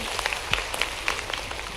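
An audience of students claps at a live school event in Bhopal, a brief scattered patter of applause at moderate distance with sharp individual claps standing out over diffuse noise.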